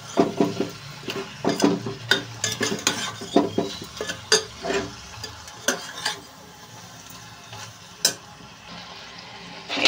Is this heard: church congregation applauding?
no